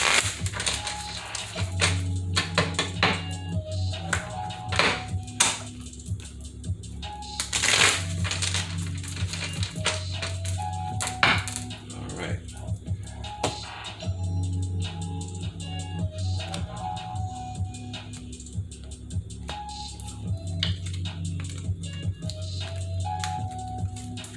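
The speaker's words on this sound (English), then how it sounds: "let me get a couple of shuffles in with this here, this deck here" Tarot cards riffle and slap in repeated shuffling bursts, crisp and close, with faint rustling and handling noise in between.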